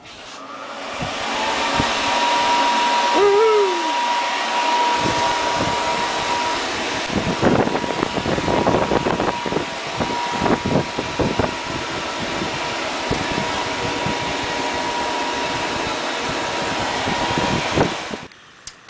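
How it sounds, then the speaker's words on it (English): A small blower fan runs in a hot welding workshop, making a steady whooshing airflow hum at a constant level for the whole stretch, with a brief tonal whine near the start and scattered clanks and handling noises in the middle. "I turned my little blower fan on over there"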